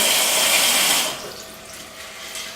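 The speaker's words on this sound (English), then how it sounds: "I'm just going to put cold water in with them." Cold tap water runs hard into a kitchen sink over beans being rinsed, loud and close for about a second, then cuts back to a softer trickle and splashing.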